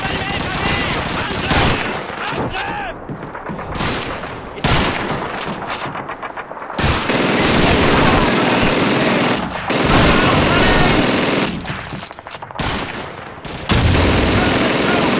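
Machine gun fire from the Call of Duty 2 World War II game rattles in dense, loud bursts, joined by other gunfire, with brief pauses between volleys and shouted voices under the shooting.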